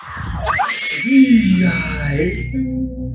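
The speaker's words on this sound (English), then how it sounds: "a blood-curdling scream is caught on camera, sending the girls running in full terror" A piercing scream rises and wavers for about a second, loud and close, followed by an agitated voice and mixed sounds during a scary footage segment.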